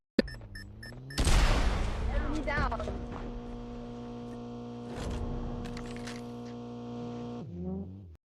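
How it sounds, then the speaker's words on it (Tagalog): Gunfire in a battle royale video game, bursts of shots and booms over a constant hum of game music and effects, with a loud sustained stretch early on. "Parang lumalapit na yung gunshots."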